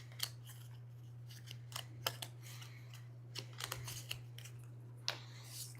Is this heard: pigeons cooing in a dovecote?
no